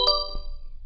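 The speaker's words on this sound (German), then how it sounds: "Und kann den einfach dann so ein bisschen Glocken spielen lassen." The Helm software synthesizer plays one bright FM bell strike, a clear metallic ding with several ringing tones that fades quickly, followed by a soft knock and a tiny tick in quiet.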